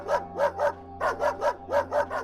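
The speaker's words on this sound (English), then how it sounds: "Pat barked a lot." A pet dog barks at night in quick repeated bursts, three sharp woofs, a pause, then two more sets of three, loud and close with a faint hum underneath.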